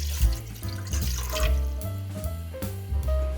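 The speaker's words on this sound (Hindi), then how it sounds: "सबसे पहले एक बर्तन में थोड़ा पानी डालें।" Water runs from a tap into a cooking pot as the first step of a homemade sweet potato chaat. The pour is steady and fairly close for about three seconds, with no talk over it.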